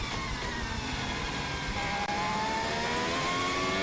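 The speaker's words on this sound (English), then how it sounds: "Just listening to see how the car is working." A McLaren Formula 1 car's engine heard onboard at the Shanghai circuit, a loud, continuous high-pitched whine that climbs steadily in pitch as the car accelerates, with one brief dip midway.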